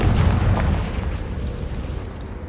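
Confringo fire-spell explosions in Hogwarts Legacy, a loud, dense rumble of blasts and bursts that starts strong and eases off slightly across a short stretch of continuous combat noise.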